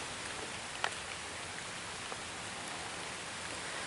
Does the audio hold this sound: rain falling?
yes